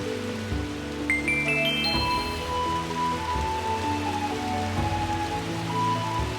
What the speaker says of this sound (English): There we are, still raining.